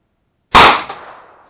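A single sharp shot from a Ruger 9mm carbine fired outdoors in snow, with a brief echo trailing off afterward.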